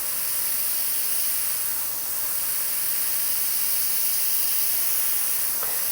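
Airbrush spraying paint gives a steady, even hiss of compressed air, close and continuous, with a faint brief tick near the end and no talking.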